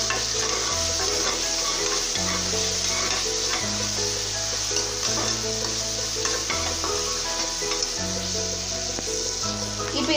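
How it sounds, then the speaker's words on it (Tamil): Tomatoes sauté in a pan for a vegetable biryani, a steady close sizzle running throughout with a spoon stirring through it and background music playing underneath. "இன்னும் தக்காளி நல்லா வதங்கணும்"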